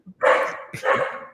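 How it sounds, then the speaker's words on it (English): A dog barks twice in quick succession, close by and fairly loud, with a short pause between the two barks. "that's the dog for real."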